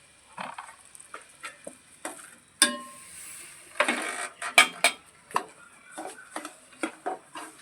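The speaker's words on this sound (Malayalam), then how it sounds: "ഇട്ടതിന് ശേഷം നന്നായി ഇളക്കി കൊടുക്കുക" A utensil scrapes and clinks against a pan as semolina and coconut are stirred over a low flame, giving irregular knocks and clatters with a few louder taps and no voices.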